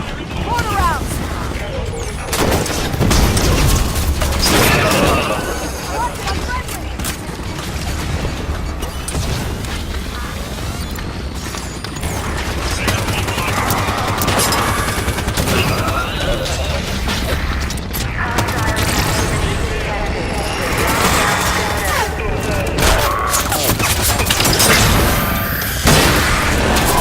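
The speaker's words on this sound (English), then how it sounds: "Mortar rounds!" Mortar rounds and heavy weapons fire in Halo 5: Guardians, with booms and crashing battle noise that fill the whole stretch, loud and continuous, under game voices and music.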